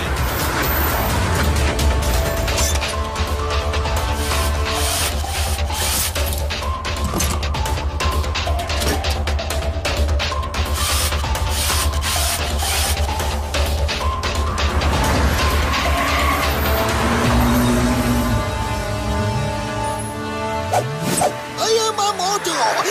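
A cartoon racing car overtakes other cars in a desert race, with loud, busy mechanical whirring, ratcheting clatter and engine noise mixed with music, under continuous narration.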